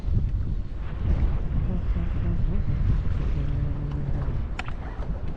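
Steady gusting wind buffeting the microphone on a clear lake while fishing from a boat, a continuous low roar with rumbling and no spoken words.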